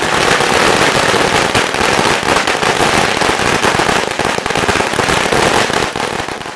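Dense, continuous crackle of firecrackers bursting nonstop at an AIADMK party workers' celebration of a parliamentary election victory, loud and close with rapid overlapping pops throughout.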